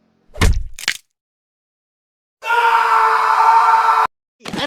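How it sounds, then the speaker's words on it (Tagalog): A cartoon foot bumps hard into a table leg: a short thud with a groan, then a long, loud, strained cry of pain, and another cry starting at the very end. "bigla na lang bumangga yung paa mo sa paa ng mesa o di kaya sa gilid ng pinto"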